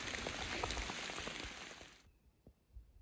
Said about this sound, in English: It's really wet today. Lots of rain.